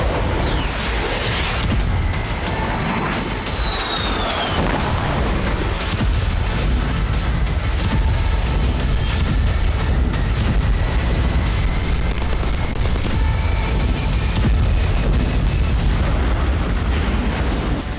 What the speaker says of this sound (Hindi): एक के बाद एक धमाके और कुछ ही सेकंड्स में सब कुछ तबाह।